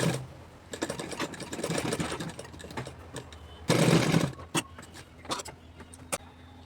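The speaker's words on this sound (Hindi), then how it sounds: "अब हमें कॉलर को ऐसा पलटना है, ऐसा ऐसा और पलट कर और यहाँ से सिलाई लगा देना है" A sewing machine stitches a kurta collar in short whirring runs, close and steady, with one louder, denser burst partway through and brief mechanical clicks between stitches.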